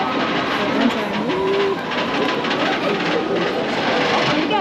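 Trains at Disneyland Paris rumble past with a steady clattering roll, a brief whistle-like tone rising over the noise, heard close and fairly loud amid park ambience and faint voices.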